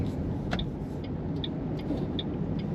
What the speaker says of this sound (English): Today we're driving a 2009 Ford Mustang Bullitt.